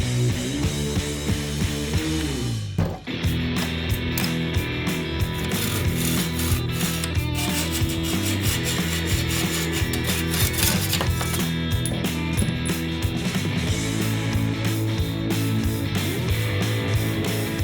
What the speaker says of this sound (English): some good old wet sanding and elbow grease was the only way to do it